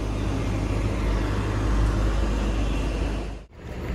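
Low, heavy rumble from a Sinar Jaya intercity bus on a Mercedes OH 1626 chassis pulling in, a steady loud drone that cuts off sharply near the end.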